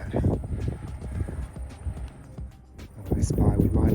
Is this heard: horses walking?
yes